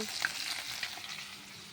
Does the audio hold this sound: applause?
no